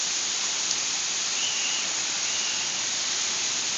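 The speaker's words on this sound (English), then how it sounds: "Oh, look at it now. There's lots of rain." Heavy rain pours down steadily outdoors at a home, a dense, unbroken wash of hiss that stays loud and even throughout with no voices.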